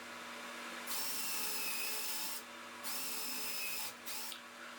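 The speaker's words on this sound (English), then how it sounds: "I'm using my Ryobi to make the pilot holes and my rigid to drive the screws" Two cordless power tools, a Ryobi drill and a Ridgid impact driver, whine in several short bursts of a few seconds each, with pauses between them, while driving screws into wood in a workshop.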